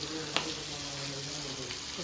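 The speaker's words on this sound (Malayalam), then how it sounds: "നമ്മളങ്ങനെ മീൻ വറുത്ത് തുടങ്ങിയല്ലേ?" Fish frying in a pan in a home kitchen on a rainy day: a steady, moderate hiss of hot oil with one sharp clink near the start and faint background sounds.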